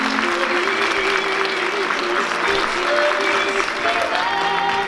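Guests at a wedding ceremony in a Seoul event hall applaud steadily and evenly throughout, a full wash of clapping layered over a playing song with melodic tones.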